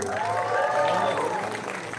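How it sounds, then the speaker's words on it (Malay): A stage audience at a drama event applauds the director amid crowd noise and cheering, with a voice or sung tone running over the clapping throughout. "tepukan gemuruh untuk pengarah drama ini, Osman Ali"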